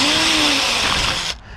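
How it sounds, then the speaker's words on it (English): A power drill fitted with a very tiny bit whines steadily as it bores a small hole into a Honda Integra's metal trunk lid, loud and continuous before cutting off abruptly. "What you're going to want to do is start with a very tiny drill bit."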